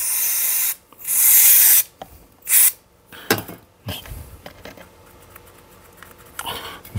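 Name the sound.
spraying brake cleaner into a carburettor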